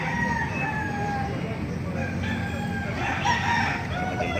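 A golden Gilmore Hatch gamefowl rooster crows once at moderate distance, its drawn-out call rising over steady farmyard background noise with other birds faintly audible.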